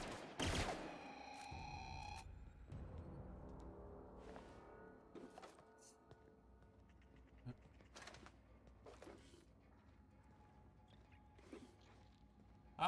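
Gunfire in The Outer Worlds video game cracks out as a few sharp shots at the start. Sparser game effects and clicks follow at moderate level, with a voice talking in between.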